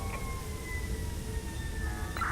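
Ambulance siren from the Emergency video game, a faint wailing tone held steadily beneath a constant background rumble of game ambience for a couple of seconds.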